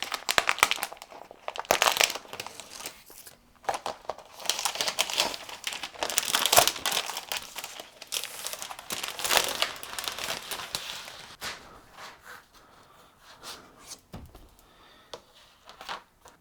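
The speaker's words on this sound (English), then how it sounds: "Let's open the package" Plastic packaging of a 15-by-15-inch LEGO Classic gray baseplate 10701 being torn open: close, busy crinkling and crackling in bursts that taper off toward the end.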